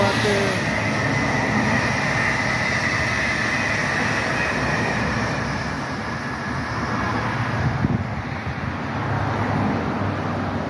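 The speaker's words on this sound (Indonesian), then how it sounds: "Kereta cepat lewat ya." A Whoosh high-speed train on the elevated KCJB track near Batu Nunggal, Bandung, passing overhead as a steady, loud rushing roar that holds for about eight seconds and then eases slightly, with voices talking underneath.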